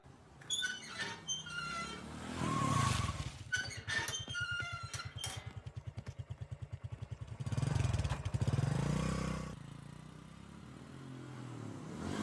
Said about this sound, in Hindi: ए गाड़ी चला।